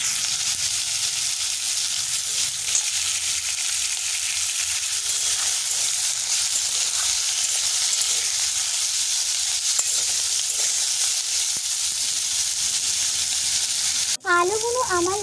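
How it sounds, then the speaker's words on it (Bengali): Potatoes fry in hot oil in a wok, flavored with a kalonji tempering, as a steady, loud sizzle that runs the whole time with light stirring scrapes, ending with a brief whistling tone at the very end. "তারপরে আলুগুলো কড়ার মধ্যে দিয়ে দেবো, দিয়ে ভালো করে লাল লাল করে আলুগুলো ভেজে নেব।"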